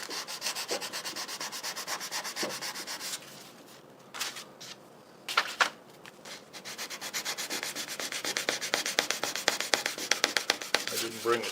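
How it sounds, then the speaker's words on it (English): Leather being sanded with very fine sandpaper, a close, soft rhythmic rubbing that pauses briefly midway, then resumes in quick steady strokes. "With your really fine sandpaper."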